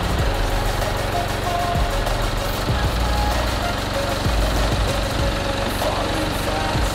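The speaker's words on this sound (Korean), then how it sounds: "엔진 소리 일정하네요" A Jaguar XF (X260) 20d diesel engine idles at a steady, even rumble, close and continuous, with occasional faint thumps and no speech.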